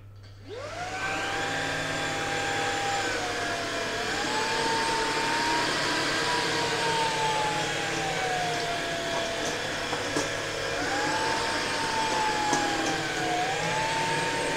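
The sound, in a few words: Tineco PureOne A50S Plus cordless vacuum cleaner running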